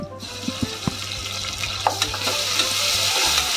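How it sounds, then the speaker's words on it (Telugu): Ginger garlic paste fries with browned onions in a pan for a spinach mutton dish, giving a steady close sizzle with a few soft stirring knocks and no talking. "అల్లం వెల్లుల్లి పేస్ట్ పచ్చివాసన పోయే వరకు ఫ్రై చేసుకోవాలి"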